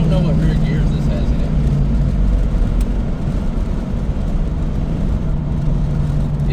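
A 1996 Chevrolet Impala SS V8 drones steadily from inside the car while driving in overdrive, a constant low engine hum with slight shifts in load and no break in the sound.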